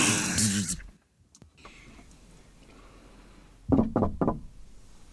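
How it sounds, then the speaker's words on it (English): Soft knocks on a door, a few quick raps heard after a burst of talk and a quiet pause, followed by a short voice. "Who's knocking on the door at this hour?"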